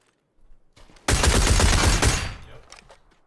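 A rifle hip-fired in PUBG, fitted with a suppressor, a loud, rapid burst of gunfire lasting about a second after some quieter movement, close and harsh.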